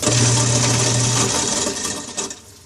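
A garbage disposal switched on by a sink-top push button gives a loud motorized grinding hum that runs steadily for about two seconds, then winds down and stops.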